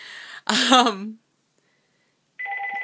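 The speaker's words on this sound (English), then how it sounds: "I'm going to kill this phone because it won't stop ringing." A phone's electronic ringtone chirps close by, cut off by a short burst of a voice, then silence before the tone resumes.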